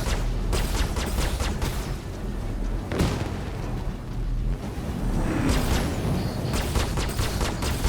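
Missile fire in the space combat game Star Citizen, heard as dense rolling booms and bursts that pile up continuously, with repeated sharp launches and explosions rumbling together at high volume.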